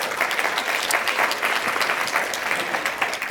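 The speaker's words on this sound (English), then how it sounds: "Let's give him a round of applause." Audience at a university opioid policy summit applauds a panelist, a steady, dense round of clapping filling the room from start to finish without speech.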